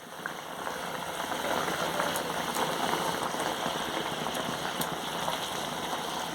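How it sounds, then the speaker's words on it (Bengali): Rui fish curry gravy bubbling at a steady boil in an uncovered pot, a dense continuous hiss and crackle, close and even in loudness. "ঝোলটা খুব ভালোভাবে ফুটে গেছে"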